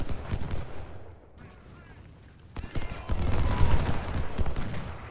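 Musket volley fire from Civil War infantry in the Ultimate General: Civil War strategy game, rolling bursts of overlapping gunshots that swell and fade with a dense clatter, loud and continuous across the clip.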